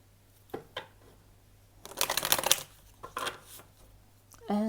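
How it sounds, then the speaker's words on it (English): Tarot card deck being shuffled during a reading, several short bursts of riffling and a dense rustling flurry in the middle, close and fairly quiet with a steady low hum beneath. "Okay, we'll do one last shuffle."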